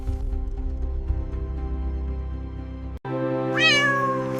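An orange cat in a staged showdown between fat cats lets out a long, loud drawn-out meow, breaks off for an instant, then meows again with a rising and falling pitch.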